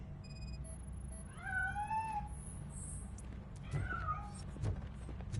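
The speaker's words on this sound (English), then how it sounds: "That cat must be hiding inside." A cat in the video game Robocop Rogue City, hidden inside a piano, gives two drawn-out rising-and-falling meows a couple of seconds apart, clear but not loud, over a low background hum.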